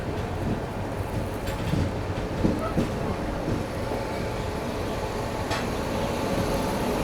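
A Rajdhani Express, the Central Railway 22222 service to Hazrat Nizamuddin, runs at high speed while overtaking the Garib Rath Express, its steady rail rumble and wheel noise continuous and fairly loud throughout.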